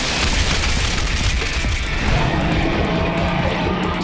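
Rock shot magic spell striking its target, a heavy booming explosion impact with crashing debris that fills the whole stretch at steady loudness, no voices.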